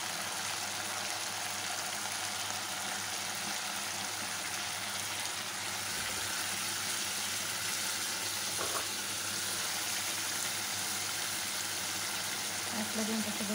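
Sardines and beans cook in a pan while vinegar is poured in, giving a steady, fairly faint sizzle and bubbling that runs continuously throughout with slight fluctuations and no clear break.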